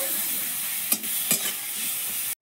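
Mustard flower paste with turmeric, salt, a little sugar and green chili frying in a pan. It gives a steady close sizzle, with two brief scraping stirs partway through.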